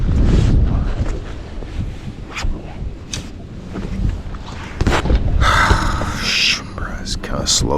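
Strong wind blows across the water on Kentucky Lake during a fishing tournament, rough gusts buffeting the microphone up close with scattered knocks and rustles, while a person speaks intermittently.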